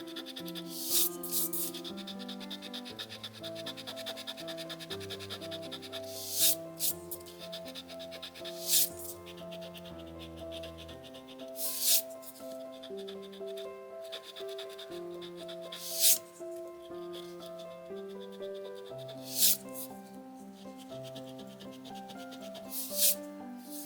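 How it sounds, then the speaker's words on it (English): A sand eraser rubbing colored pencil off paper, with repeated close, soft scrubbing strokes and occasional louder scratchy bursts. "I'm going to try my sand eraser."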